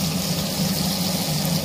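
Marinated chicken leg pieces drop into hot oil for deep frying, giving a steady, close hissing sizzle over a low burner rumble throughout.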